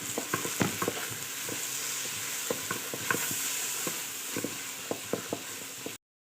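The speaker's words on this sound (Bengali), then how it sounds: "চাল ভালো করে ভেজে নেব।" Washed rice is stir-fried in a pan with a soft sizzle, punctuated by repeated scraping clicks of a spatula stirring it, close and steady with no talk.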